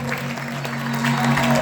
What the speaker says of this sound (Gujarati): તાળીઓના ગડગડાટથી વધાવજો.